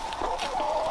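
A loose chicken clucks close by in short, soft calls over a steady background hum, lasting under a second.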